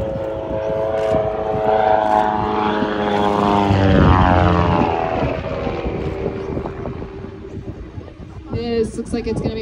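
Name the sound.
aerobatic propeller airplane flying a barrel roll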